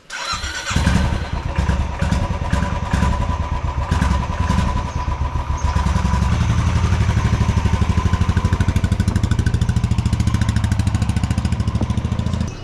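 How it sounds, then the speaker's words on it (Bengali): A motorcycle being tested before a Himalayan road trip from Manali starts up and settles into a loud, steady idle close by, with a few throttle blips early on and a continuous throbbing rumble. "দীপায়ন বাইক টেস্টিং করছে"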